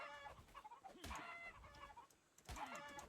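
A dodo in the video game Ark clucks like a chicken, a run of short clucks and squawks with two louder bursts, fairly close, over a busy game background.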